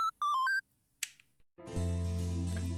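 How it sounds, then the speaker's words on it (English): A cute, cheerful electronic phone ringtone from the video game Steins;Gate: Linear Bounded Phenogram: a quick run of bright chiming beeps, a short click, then a sustained synth chord swelling up, clear and close. "the most adorable ringtone I've ever heard in my life"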